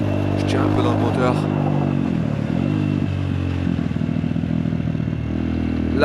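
A motorcycle engine revs and pulls hard while it is ridden on a wet road in Bali, Indonesia. The note rises and falls in a continuous, loud drone, with clattering and scraping mixed in and a voice speaking over it.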